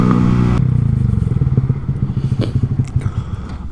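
A Honda Grom motorcycle engine putters loud and close, a quick steady thumping idle that sharpens into a rapid pulsing beat, with a few clicks and clatters.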